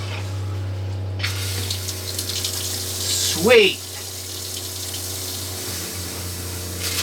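Water runs from a newly installed RV sink faucet with the pump on, a steady hiss over a low pump hum, with a brief swell of splashing midway and a short spoken word near the start.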